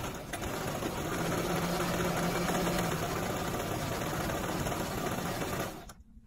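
A sewing machine runs in one steady, close burst, whirring rapidly as it stitches across folded African Ankara fabric for a stretch slouchy hat, then stops abruptly.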